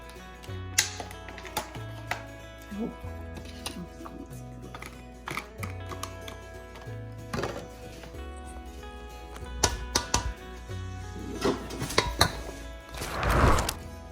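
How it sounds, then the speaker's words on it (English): Macaroni salad being tossed together with seafood in a bowl, giving irregular clinks, scrapes and soft knocks of a utensil against the dish over a low steady hum, with a louder rustling burst near the end. "now we're gonna mix it with the seafood"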